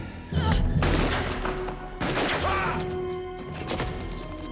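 Gunfire from a Die Hard film scene, several loud crashing shots and thumps over a dense, busy soundtrack that keeps going, with no talking.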